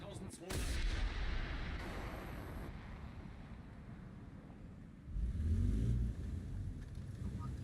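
A tank cannon in the video game War Thunder fires with a sharp loud blast near the start, followed by rumbling vehicle noise and a second heavy boom around the middle, with no talk over it.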